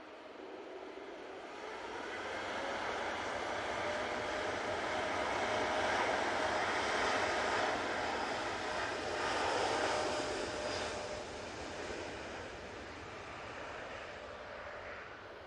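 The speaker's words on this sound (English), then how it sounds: "And that 787-8 is off to Paphos." A Boeing 787-8 Dreamliner taking off from Manchester Airport for Paphos produces a sustained jet-engine roar that builds over the first few seconds, peaks mid-clip and eases slightly toward the end, heard from a distance without talk.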